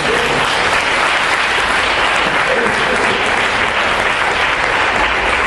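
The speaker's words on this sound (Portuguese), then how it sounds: "Então aplaude a Jesus por isso" A church congregation claps for Jesus at a worship service, producing loud, sustained, dense applause that stays constant from start to finish, with a faint murmur of voices beneath it.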